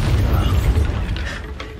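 Bombarda spell blast in the video game Hogwarts Legacy, a heavy rumbling explosion with a deep low-end boom that decays gradually over under two seconds, loud and close.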